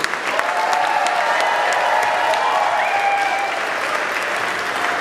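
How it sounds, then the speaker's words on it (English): A crowd at a Portland Jazz Composers Ensemble concert claps steadily and loudly in sustained applause, with a faint tone lingering underneath. "a special round of applause for our ASL interpreter, Gilly."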